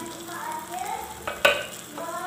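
Egg and potato fry in a pan, with a soft close sizzle, a few stirring scrapes and one sharp clink of a utensil against the pan.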